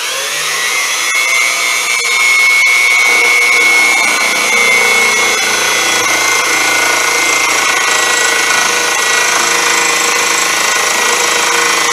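A Unimat SL1000 mini lathe running a fly cutter for milling gives off a steady, loud machine whine with a high tonal ring, continuous for the whole stretch with no talking.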